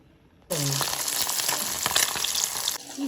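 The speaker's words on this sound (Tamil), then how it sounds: "சோதி நல்லா கொதிச்சிட்டது இறக்கி விடுவோம்" A steady, hissing bubble of a milk-based fish sothi curry boiling in a pot, starting abruptly and holding close and loud for a couple of seconds before cutting off.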